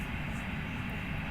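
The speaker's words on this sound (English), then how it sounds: "the A330neo roar is loud, but the jet blast is quiet. That's the ideal engine sound." An Airbus A330neo jet engine in Flight Simulator X roars in a steady, broadband drone with a low rumble, constant and unbroken, with no talk over it.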